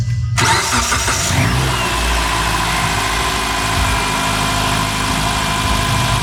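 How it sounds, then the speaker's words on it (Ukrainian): A 2009 Mitsubishi Lancer X engine cranks and catches after a brief quiet moment, then settles into a steady, loud idle that runs on unchanged. "запускаємо до двигун та чекаємо, доки погасне лампа тиску оливи"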